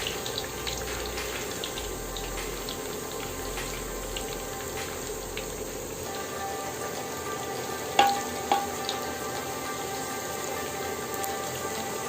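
Chopped garlic frying in hot oil in a pan for a fish and Malabar spinach curry, a steady soft crackling sizzle throughout, with a couple of brief louder clinks near the end.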